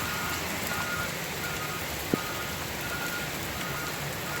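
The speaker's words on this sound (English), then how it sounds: "It's actually hailing." BB-sized hail falls outdoors in a dense, even hiss that covers the whole stretch, with one sharp tick from a single hailstone near the middle.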